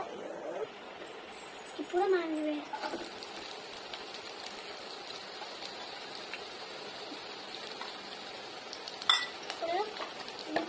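Cumin seeds and onions sizzle steadily in hot oil for egg fried rice, with a few scraping stirs in the pan near the start and a clink later, while a voice talks over the cooking.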